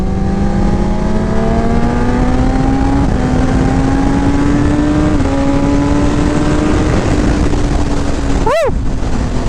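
Kawasaki ZX10R KRT Edition sport bike accelerating hard, its engine pitch climbing through several gear changes before a quick crisp downshift blip, loud and close amid wind rush.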